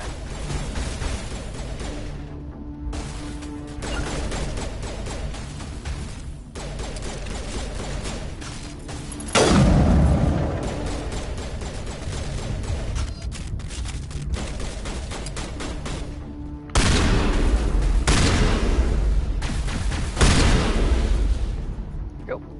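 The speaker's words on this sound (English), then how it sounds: "Gunfire is pretty loud." Sustained bursts of gunfire and heavy blasts from combat in Mass Effect Legendary Edition, loud and dense throughout, with sharper, louder volleys near the middle and end.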